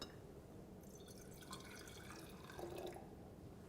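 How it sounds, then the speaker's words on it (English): Distilled water trickles and drips into a glass conical flask during a chemistry demonstration, a faint, close splashing over a quiet background. "add to the conical flask 200 mils of water"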